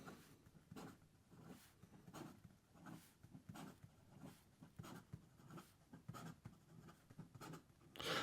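An Ikkaku Cherry Blossom Urushi fountain pen scratches quickly across paper in rapid, rhythmic strokes, very close and faint, with no talking.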